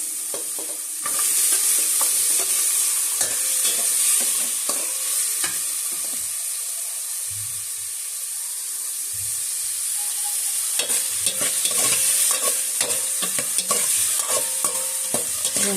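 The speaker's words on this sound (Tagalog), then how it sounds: "Gisa lang po natin saglit yung sibuyas, kamatis mga kaguro." Onion and tomato are sautéed in oil for sinigang sa puso ng saging. A spatula scrapes and clatters against the pan over a soft sizzle, with busy bursts of stirring that ease into a quieter stretch midway.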